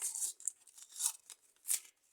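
A paper surprise packet is torn open in a few short, crisp rips with rustling between them, close and fairly quiet, with no voices.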